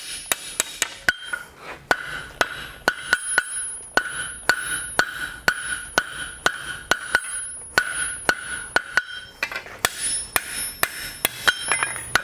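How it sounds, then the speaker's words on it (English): A blacksmith's hammer strikes hot iron on an anvil while forging the shaft of an 18th–19th century style toaster, with sharp ringing blows in a steady rhythm and a few brief pauses between runs. "we continue forging until we reach the desired length"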